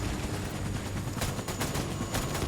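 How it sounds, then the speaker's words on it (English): Video game gunfire in Death Stranding, a burst of rapid, sharp shots in close succession over a dense rumbling game backdrop, fairly loud and with no talking. "Am I getting shot?"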